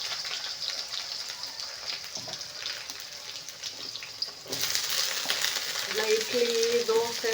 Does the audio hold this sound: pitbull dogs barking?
no